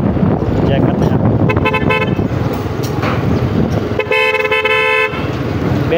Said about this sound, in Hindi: बेहतरीन हारन है भाई यहाँ